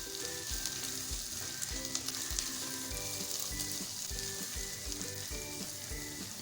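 Okra with red chilli, turmeric and salt sizzling in a pan for bhindi masala, a continuous close frying hiss broken by rhythmic stirring scrapes, with no talking.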